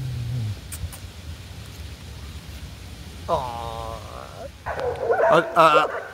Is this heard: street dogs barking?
yes